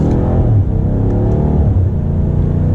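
A 2021 BMW M8 Gran Coupe Competition with the M Sport exhaust accelerating hard from first gear, a loud, close engine roar with rising pitch through the revs and a brief dip near a shift, no talking.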